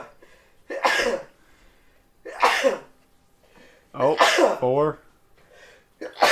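A person sneezes in several loud, sharp bursts spaced a second or two apart, mixed with brief spoken exclamations in a quiet indoor room.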